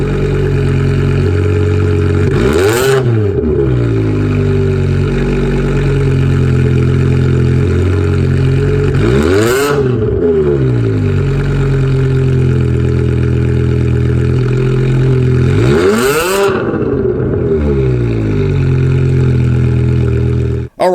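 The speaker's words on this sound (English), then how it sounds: "here's how the car sounds." A car engine idles steadily and loud, then revs up three times at regular intervals, each rev rising and falling back to idle.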